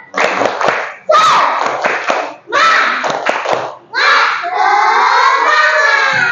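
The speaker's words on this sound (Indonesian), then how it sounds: "tepuk semangat dulu yuk" A group of children in a classroom shout the tepuk semangat chant in loud bursts, with sharp rhythmic claps cutting through their voices, ending on a long sustained cheer.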